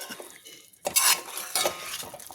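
Spoon clattering and scraping in a metal pan as garlic chicken fry is tossed with cashews, with a faint sizzle under close, irregular bursts of stirring and no talk.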